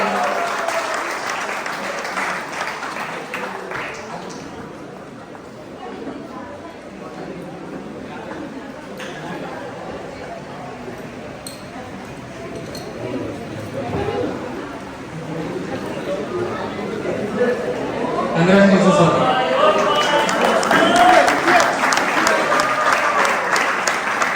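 Applause at a badminton tournament award ceremony for the silver medal winner, a steady field of clapping from an audience that swells louder near the end, with chatter and voices mixed in throughout.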